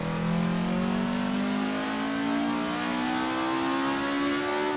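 Race car in Assetto Corsa revving extremely high, one continuous loud engine howl that climbs steadily in pitch for several seconds, close and alone with no voices.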